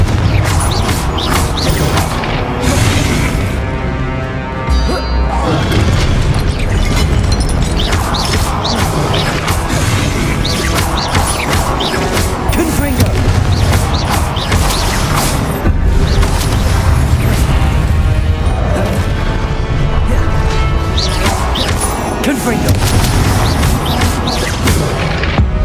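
Confringo blasting-curse explosions from the Hogwarts Legacy video game, a dense continuous barrage of booms, crashes and smashing impacts layered with game music and effects, loud and sustained throughout.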